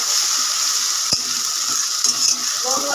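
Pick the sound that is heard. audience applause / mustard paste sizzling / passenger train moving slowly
mustard paste sizzling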